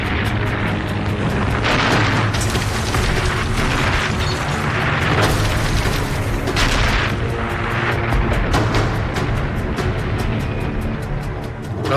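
A German 88mm anti-tank gun fires in a wartime battle scene, heavy booming blasts and crashing impacts over a dense, continuous roar of combat noise, loud and sustained throughout with no talking.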